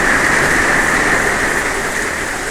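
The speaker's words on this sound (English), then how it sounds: "literally it started like pouring rain as soon as that happened." Heavy pouring rain, a loud, dense, continuous hiss and roar that stays steady throughout with no talk over it.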